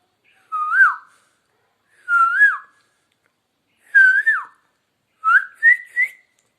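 Four rising, whistled bird calls of a koel, each phrase swooping up then dropping, spaced about 1.5 seconds apart, clear and alone against silence, the last phrase broken into three quick notes.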